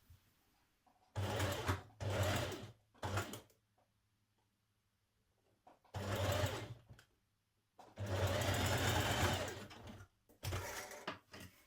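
A sewing machine stitches interfaced facing pieces for a sweater in several loud, close bursts of rapid whirring. Short silences separate the bursts, and no one speaks.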